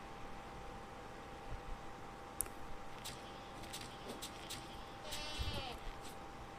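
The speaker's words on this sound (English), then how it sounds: "Goat." A goat in the video game Wild Terra II bleats a few times, short bursts against a steady hum of in-game ambience.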